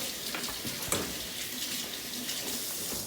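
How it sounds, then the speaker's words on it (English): Rice being rinsed under a running kitchen tap, a steady close splashing stream with brief sloshes and clinks as the grains are stirred. "We're going to just rinse the rice."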